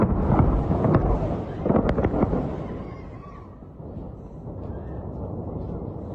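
Guided bombs strike targets within a city, producing several sharp, heavy blasts early on that give way to a lower rumbling wash of distant noise and wind.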